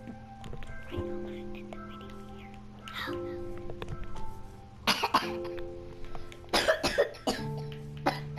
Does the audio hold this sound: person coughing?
yes